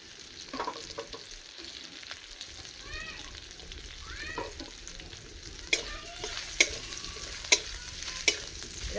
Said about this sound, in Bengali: ভালো করে ভেজে নিচ্ছি আদা কাঁচা গন্ধটা চলে যাবে